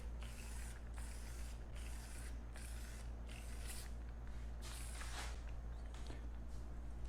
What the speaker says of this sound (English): Now I'll just give it a spray.